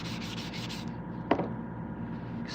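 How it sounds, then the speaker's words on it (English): Brass is hand sanded to remove scratches, a rapid back-and-forth rasping rub repeating steadily up close, with a brief sharp tap partway through. "I'm kind of trying to focus my sanding on them."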